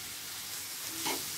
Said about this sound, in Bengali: এটাকে আমরা একদম সুন্দরভাবে লাল হয়ে আসা পর্যন্ত এটাকে ভাজবো।